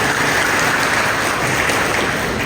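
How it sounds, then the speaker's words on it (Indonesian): Audience applause at a graduation ceremony welcoming new students at the Institut Teknologi Perkebunan Pelawan Indonesia, a steady dense wash of clapping throughout. "Tepuk tangan dulu, mahasiswa baru kita."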